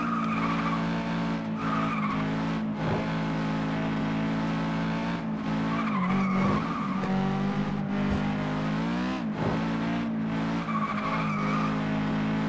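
A small Lancer-like car in the racing game FlatOut 2 drones on at a steady engine pitch while its tires squeal in repeated skids through turns, loud and continuous throughout.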